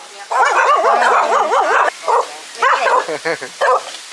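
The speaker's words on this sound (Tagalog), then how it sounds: "Ang daming aso." Several dogs yip and whine in high, wavering tones, with short bursts of barking near the microphone and a few gaps between them.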